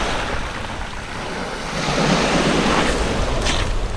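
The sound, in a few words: sea waves breaking on a winter beach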